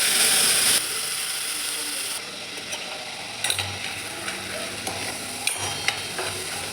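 Cumin seeds hit hot oil in a kadhai with a bright sizzle that fades into a steady crackle, broken by scattered clinks and scraping stirs.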